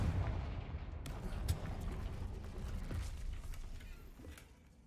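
In the video game Hogwarts Legacy, the Confringo blasting spell sets off a deep booming blast with a rumbling roar that slowly fades, heard at moderate volume.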